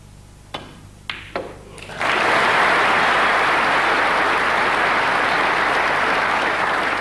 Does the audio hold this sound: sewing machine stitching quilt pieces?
no